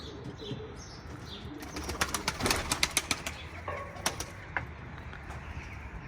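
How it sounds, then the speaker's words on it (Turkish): A burst of wing flaps as crows take off together nearby, with scattered bird calls before and after against outdoor ambience. "Kargalar da havalandı."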